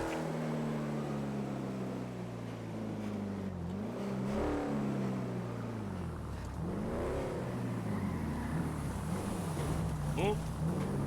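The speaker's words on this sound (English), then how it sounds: "Hearing lots of cars, like many cars." Steady drone of many cars driving past in GTA V, engines rising and falling in pitch as they sweep by at moderate distance, a continuous overlapping hum throughout.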